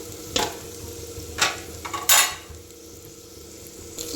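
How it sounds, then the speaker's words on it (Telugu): Spatula strokes scrape and clatter intermittently in a pan of spinach and moong dal with turmeric, a few distinct stirring bursts over a faint sizzle, no talking. "ఇది కూడా వేసుకొని మంచిగా కలిసేటట్టు కలపాలి."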